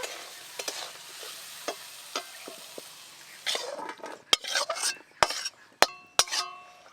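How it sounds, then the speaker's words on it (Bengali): A spatula stirs mixed vegetables and capsicum in a pan for fried rice, soft frying hiss broken by sharp metallic scrapes and clinks that grow louder and more frequent toward the end. "নাও ক্যাপসিকাম দিয়ে দাও, দিয়ে একবার দিয়ে নেড়ে নামিয়ে নিবে।"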